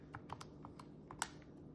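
Fingers tap on a computer keyboard in a quiet room, producing a faint, irregular run of light key clicks over a low hum.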